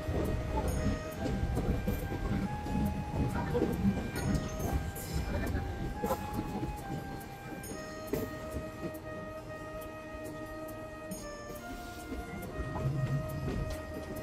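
A train pulling into Digboi railway station in Assam, a steady rumble of rolling wagons and clatter throughout with a few tonal squeals and horn-like notes rising over the din.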